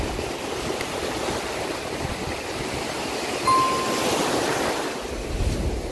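Ocean surf washes steadily onto the beach at Praia da Armação in Penha, Santa Catarina, Brazil, a continuous broad roar with a slight swell midway and some wind on the microphone.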